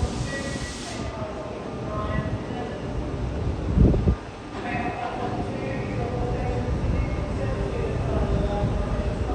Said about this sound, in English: I'm going to catch this Lidcombe service M5 to Birong